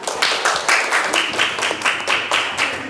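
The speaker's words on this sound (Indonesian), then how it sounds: "Beri aplaus untuk kelompok 2." A small audience claps in rhythmic unison for a presenting group, about a dozen evenly spaced, fairly loud claps in steady succession.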